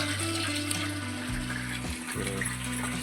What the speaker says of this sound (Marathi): पाणी भरण्याचं काम चालू आहे पिण्यासाठी पाणी भरतो